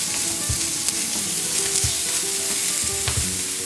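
Chorizo and longaniza meat fry in manteca with a loud, dense, close sizzle, broken by a few soft scrapes and stirs in the pan.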